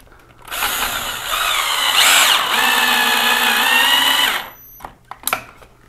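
Power drill driving screws into an electrical box mounted on structure, one sustained whining run of about four seconds, then a few sharp clicks and taps.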